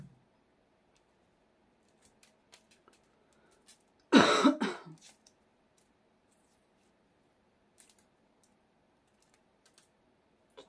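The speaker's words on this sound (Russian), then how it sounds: "Что-то кашляю." A woman coughs once in a short loud burst, close and alone against a quiet room, with faint tapping and small clicks scattered before and after.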